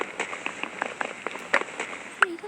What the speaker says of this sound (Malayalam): അപ്പോൾ നമ്മൾ മഴ വിട്ട് തുടങ്ങും.